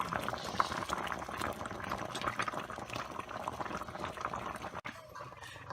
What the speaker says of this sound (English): I just switched burners here as the plantain continues boiling.